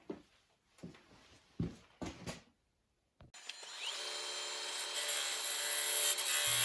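A lathe turns a beech burl while a tool scrapes epoxy from the base. First come a few short, separate wooden knocks and scrapes with gaps between them, then a continuous hissing cut that grows steadily louder and close.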